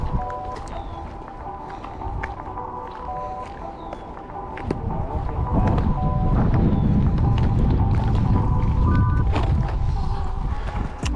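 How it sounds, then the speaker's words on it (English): Wind blusters at a fishing pond, rumbling across the microphone and growing stronger and louder in the second half, with scattered clicks and knocks in the background. "we're gonna try and get out of the wind a little bit"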